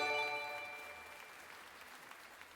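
A short burst of applause plays as a sound effect during a Minecraft Hardcore livestream, starting fairly loud over a tonal chime and then thinning into a steady, quieter patter of clapping with no talk.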